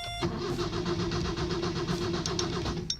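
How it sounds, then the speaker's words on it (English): Engine of a 1977 Subaru cranking on a newly installed starter, a steady, loud rhythmic churning that runs without a break for about three seconds after a brief quiet start, with no ignition catching. "With those 3 things done, the car now cranks."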